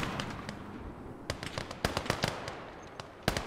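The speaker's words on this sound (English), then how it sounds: "Not sure what the 76 is shooting at." A 76 gun firing during a battle in the war game Gates of Hell: Ostfront: sharp cracks at irregular intervals, a few louder shots standing out over distant crackling battle noise, with no talking.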